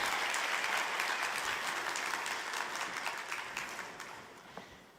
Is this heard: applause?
yes